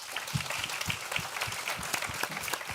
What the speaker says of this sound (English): I want to thank the panel, give them a round of applause.